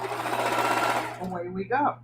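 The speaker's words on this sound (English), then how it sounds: "I'm sewing it on a diagonal right to the tip of where the other fabric will join it" A sewing machine stitches a diagonal seam on mudcloth binding, a rapid buzzing run up close for about a second before it stops and someone speaks briefly.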